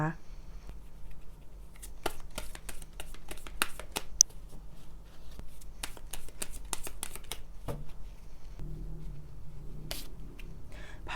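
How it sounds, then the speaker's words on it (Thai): Oracle cards being shuffled and handled during a card reading, a series of crisp flicks and riffling snaps at irregular intervals over a quiet room background, close to the listener. "ต่อไปแม่หมอเปิดไพ่ออร์เคิลเสริมให้นะค"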